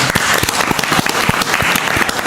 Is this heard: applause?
yes